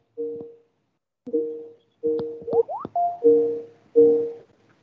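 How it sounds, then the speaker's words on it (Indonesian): An incoming call ringtone in Microsoft Teams plays as a series of short electronic tonal chimes, several spaced bursts with a few quick rising notes in between, clear and close with no talking over it. "Ini seperti ada ini ya. Telepon masuk ke MS Team ya."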